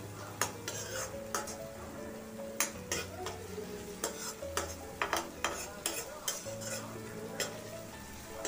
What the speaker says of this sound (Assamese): আদা নহৰুখিনিও অকণমান এনেকৈ ভাজিব লাগিব যাতে আদা নহৰু কেঁচা গুণটো গুচি যায়।